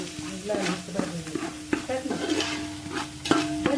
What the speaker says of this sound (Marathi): कांदा लाल मिरची भाजून घे